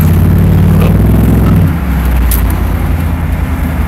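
A Chevrolet Yukon fitted with glasspack mufflers rumbles loudly and close, its deep exhaust drone steady for a moment, then dropping to a lower idle-like burble partway through.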